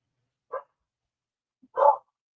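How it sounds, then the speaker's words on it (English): A dog barks twice from a distance, a short single bark followed by a louder one a second later, against an otherwise silent background. "that's Homer up there barking"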